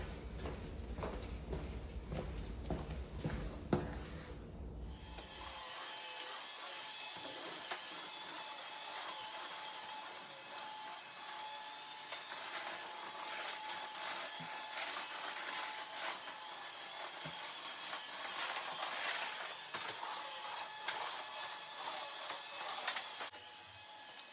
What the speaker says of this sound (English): I'm going to continue vacuuming off camera